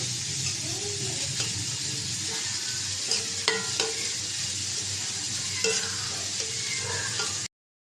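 Onion and green chili frying in hot oil make a continuous close sizzle, broken by occasional sharp clinks and scrapes of a spoon stirring against the pan.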